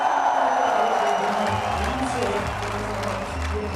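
Crowd applause at a political rally speech in Muzaffarabad, Azad Kashmir, for Prime Minister Nawaz Sharif, a steady dense clapping wash with some voices and cheers mixed in, sustained throughout.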